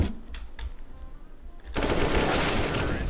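Sustained rapid automatic gunfire in the shooter game CS:GO, a dense loud close burst that starts abruptly after a few quieter shots and keeps going without pause.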